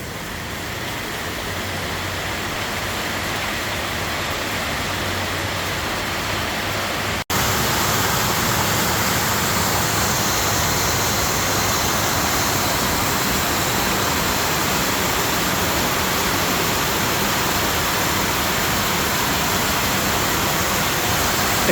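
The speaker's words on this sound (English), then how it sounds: "This is the first time in 2 weeks it has poured down," Heavy rain pouring down in a city alley in Cambodia, a dense, loud, continuous hiss with a sudden jump in intensity partway through, no speech.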